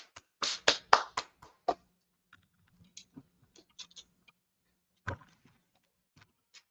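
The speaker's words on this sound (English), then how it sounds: "Clap it up for the class." A short burst of hand clapping for a class from a small group, a few loud claps close together that quickly thin out into scattered single claps and taps, then near silence.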